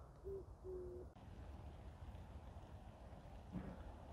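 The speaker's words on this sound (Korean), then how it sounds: "비가 내리기 시작합니다." Light rain beginning to fall outdoors: a soft, steady hiss of drops throughout, with two short hoot-like calls near the start and a faint knock toward the end.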